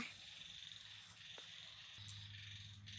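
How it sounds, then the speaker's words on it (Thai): Small frogs croak at dusk after heavy rain on a rural farm, a dense continuous chorus mixed with insect trills, steady and moderately distant, with no voices. "ตอนนี้เขียดกบเขียดร้องแล้วนะคะ"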